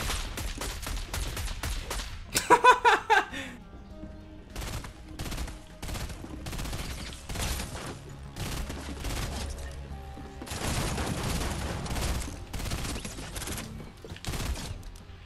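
Light machine gun fire in the battle royale game Fortnite, sharp repeated bursts of shots with scattered single cracks through the stretch, mostly without talk.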